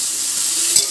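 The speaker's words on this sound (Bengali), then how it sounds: "এবার কড়াইয়ের মধ্যে ওই তেলের মধ্যে এবার ভেজে নেব।" Potato and soya chunks frying in oil in a wok, a brief steady hiss of sizzling with one small stir or pop near the end, close up and with no voices.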